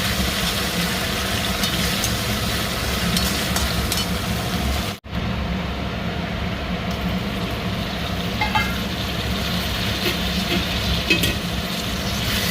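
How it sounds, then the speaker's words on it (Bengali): Onion with ginger garlic paste frying in a pan while cooking sukhi tuvar, a continuous close sizzle and hiss that breaks off briefly partway through and then carries on steadily. "পেঁয়াজের সাথে সাথে আদা রসুনের পেস্ট ভাজা হয়ে গেছে"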